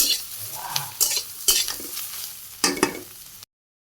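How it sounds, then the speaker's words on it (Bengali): Eggplant being stirred into spinach in a pan, with a soft sizzle beneath several distinct scraping strokes of a utensil against the pan, spaced irregularly, then cut off abruptly. "পালং শাকের মধ্যে বেগুনগুলো দিয়ে দিলাম সবগুলো বেগুন নাড়াচাড়া করে হালকা একটু ভাজি করে"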